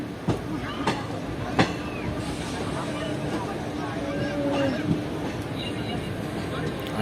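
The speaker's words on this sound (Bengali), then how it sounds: "আমরা রামপুরহাট স্টেশনে ঢুকছি এবার।" A train rolls into Rampurhat station with a steady low rumble and periodic rail clunks, a thin metallic squeal drifting in partway through, while people talk faintly beneath the running noise.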